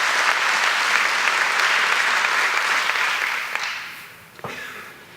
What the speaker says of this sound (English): if we could give the Impact ladies a big round of applause